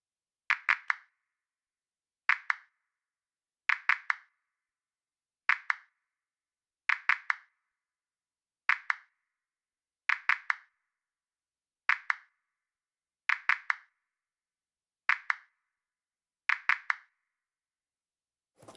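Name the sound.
four independent clap samples soloed in Pro Tools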